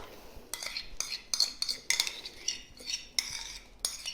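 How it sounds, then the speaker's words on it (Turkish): A spoon scrapes and clinks against a bowl as yogurt is added for an eggless vegan revani, giving a run of close, bright taps and scrapes in an irregular rhythm with no talking. "Önce yoğurdumuzu ekliyoruz."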